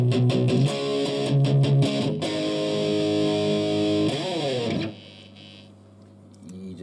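Electric guitar played through a Marshall JCM2000 amp with the gain turned up, loud distorted chords and sustained notes that ring, bend and fade into quieter amp hiss.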